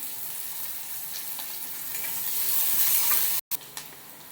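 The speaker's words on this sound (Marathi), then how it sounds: "आता आपण त्यामध्ये एक आलं लसणाची एक चमचा पेस्ट टाकली आहे ते आपण सगळं व्यवस्थित परतून घेऊया" Onion, capsicum and ginger-garlic paste sautéing in a hot pan for spicy noodles: a loud, continuous sizzle that swells toward the end, with a brief cut and light stirring scrapes, close up with no voices.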